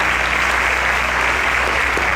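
Studio audience on a televised quiz show gives a contestant a brief, loud burst of dense, continuous applause.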